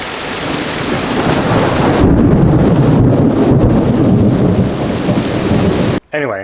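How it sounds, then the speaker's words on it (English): Heavy rain pours outdoors with rolling thunder rumbling through it, a loud, dense, continuous wash of noise with low booms, ending in a brief dropout and a short scrape of handling. "We're getting a little bit of rain right now. It's thundering."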